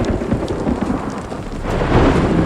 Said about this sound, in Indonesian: Gelegeran geluduk ditambah hujan membuat suasana semakin mencekam.